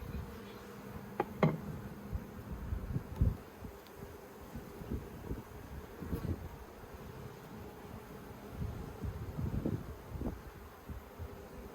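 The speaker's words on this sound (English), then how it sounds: "The bees seem to be moving happily on that frame." Honeybees buzz softly around a top bar hive frame while a nucleus colony is being readied for spring. A steady, faint hum carries occasional louder passes and light knocks and rustles.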